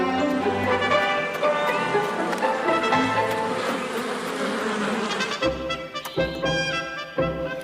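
Bees or wasps buzzing in a dense, steady drone that swells and fades, close and fairly loud, with occasional voices underneath.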